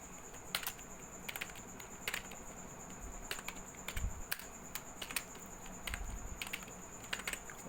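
Scattered keystrokes on a computer keyboard as code is typed for a programming exercise, soft clicks arriving in small irregular bursts against a quiet room hiss with a faint thump or two.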